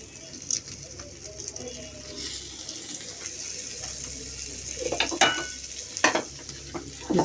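Butter sizzles in a frying pan, a continuous crackle broken by louder bursts of stirring and scraping in the second half.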